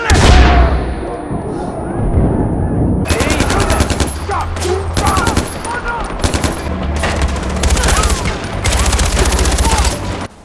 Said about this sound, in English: Firing the weapons still felt and sounded weak.